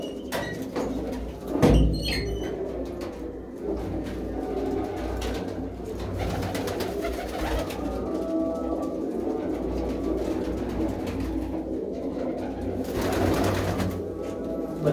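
Pigeons coo continuously inside open lofts, a low steady burbling chorus with one louder flutter or knock early on, no talking.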